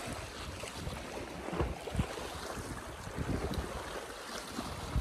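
Wind gusting at the seashore, a steady broadband rush with waves washing in the background, buffeting the microphone in uneven bursts; no one speaks.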